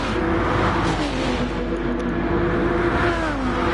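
Four racing cars from a PS4 racing game battle closely, their engines droning and revving continuously at a steady, loud level with no talk over them.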